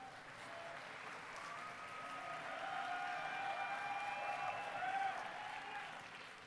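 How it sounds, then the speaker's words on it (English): Steady applause from a large audience at a university commencement ceremony, a dense wash of clapping that swells slightly midway and holds without voices standing out. "How about another round of applause for our student singers?"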